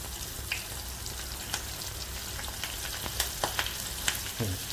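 Green chillies and curry leaves sizzling in hot oil for Rajasthani kadhi, a steady close frying hiss with scattered sharp pops and crackles that grow livelier toward the end.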